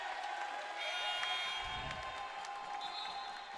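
Home crowd at a SUNY Purchase college basketball game against Manhattanville, a steady far-off murmur of cheering and applause filling the gym without a clear peak.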